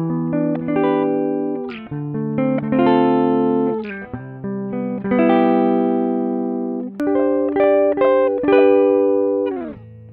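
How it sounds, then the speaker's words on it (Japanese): Clean electric guitar notes and chords ring out one after another through a bypassed chorus pedal, a dry, unprocessed tone with sustained notes and short pauses between phrases. "バイパスの音はこんな感じです。"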